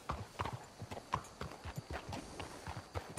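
Horse hooves clip-clop at a steady walking rhythm in Red Dead Redemption 2, faint and fairly close, with no talk over them.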